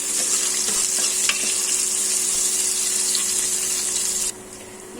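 Sliced onions sizzling steadily in a pan for aloo methi, with occasional stirring scrapes over a constant close hiss that drops away suddenly near the end.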